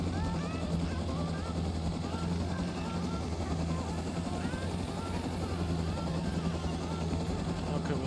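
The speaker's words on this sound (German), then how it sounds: "Gut, ich gehe und starte den Heli." A helicopter in the survival video game Rust runs with a steady, continuous low rotor drone and engine hum throughout, with voices talking over it.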